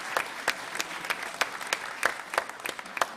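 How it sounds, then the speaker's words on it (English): A convocation audience claps in a moderate round of applause, individual sharp claps standing out in an uneven rhythm over a softer bed of many hands, fairly close and without talk. "Let's have a round of applause."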